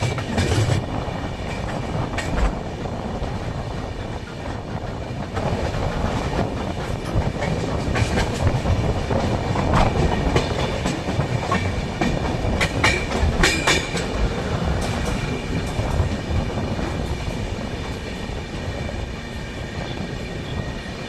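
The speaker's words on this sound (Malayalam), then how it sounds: "ട്രെയിൻ നമ്പർ 16608 കോയമ്പത്തൂർ കണ്ണൂർ എക്സ്പ്രസ്സാണ് ഇപ്പോൾ കടന്നു പോയത്." Train 16608 Coimbatore–Kannur Express rushing past at close range, a steady loud roar of rolling wagons with rhythmic clickety-clack of wheels over rail joints for the full duration, no voices.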